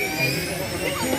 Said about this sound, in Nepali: इन्जिन स्टार्ट हुन्ला हो